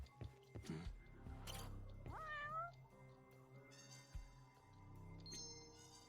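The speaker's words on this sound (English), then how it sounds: "Also, I hear a cat. Where's the cat?" A cat in the video game Judgment meows a few times, including a rising, drawn-out call, over a steady low hum and scattered electronic tones.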